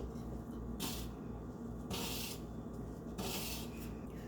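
Thattai dough with curry leaves is mixed by hand as water is added, giving three soft, quiet bursts of wet rubbing and squishing over a faint background hush.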